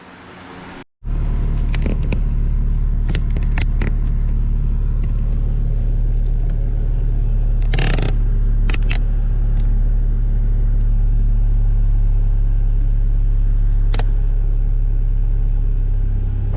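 A 1988 Mazda 323 with a manual transmission drives along, its engine a steady loud rumble from inside the cabin, with a brief break near the start and a few short clicks and knocks from gear shifting.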